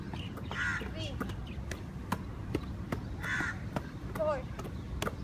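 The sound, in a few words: crow cawing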